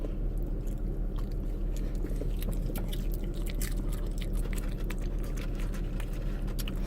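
People eating a large mukbang meal, with continuous close chewing and biting over a dense, steady background of soft clicks and crunches, with no clear talking.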